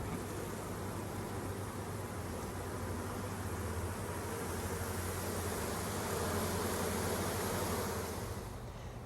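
Honeybees from a swarm being caught buzz densely and continuously, droning nearby at a steady level throughout with no voices.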